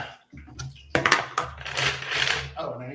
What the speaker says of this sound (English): Add some ice.